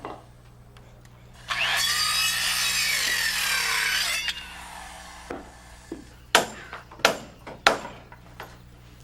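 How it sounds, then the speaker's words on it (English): Hand saw cutting rafter ends off a wooden roof frame, a steady rasping stroke run lasting a few seconds, then several separate knocks and scrapes close by. "We just want to saw these ends down below the level of the sheeting."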